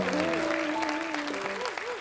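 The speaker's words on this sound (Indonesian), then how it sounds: "Tepuk tangan semuanya, tepuk tangan untuk malam ini." Audience applause at an Indonesian stand-up comedy night, a steady wash of clapping from a crowd with a voice and tonal sounds running over it throughout.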